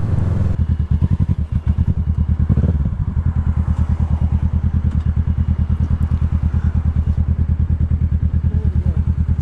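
A Zontes Mantis 125 motorcycle engine idles steadily up close, its low, even pulsing continuing without a break and no voices over it.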